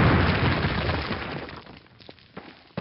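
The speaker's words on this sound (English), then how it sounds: "Place your explosives on the cinder block wall." A wartime Call of Duty explosion set off on a cinder block wall during training, a loud rumbling blast that dies down slowly, followed by a few sharp debris crackles.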